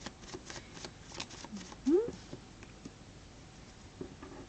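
Tarot cards handled and shuffled for a reading, soft riffling and patting sounds with one louder flick near the middle, while a voice speaks quietly over them.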